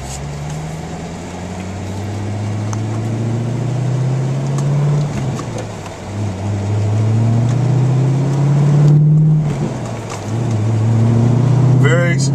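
A Chevrolet Corvette C5 custom car's engine drones loudly and steadily, rising and falling in pitch as it is revved, with someone talking over it.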